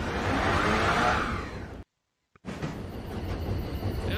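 Train in the video game Tiny Rails rumbles along with a steady rolling roar, cuts out abruptly into a half-second of silence, then resumes at a similar level.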